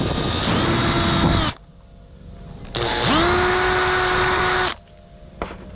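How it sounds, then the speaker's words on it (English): Two long bursts of a whining power drill, spinning up and boring steadily into a safety helmet, separated by a short pause, loud and close. "you go drilling into a perfectly well safety approved helmet"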